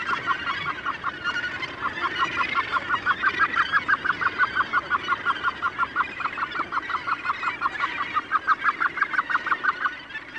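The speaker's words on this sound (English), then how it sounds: "That's a red-billed gull on the lookout for an unguarded egg." A red-billed gull colony on White Island, New Zealand, calls with loud, rapid, evenly repeated cackling notes that run steadily from start to finish, with no voices over them.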